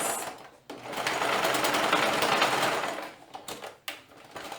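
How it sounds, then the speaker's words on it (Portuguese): A sewing machine stitches elastic onto a child's Snow White dress, whirring loudly and steadily in a close burst before slowing into short, stop-start runs of stitching. "o meu elástico, eu costuro novamente."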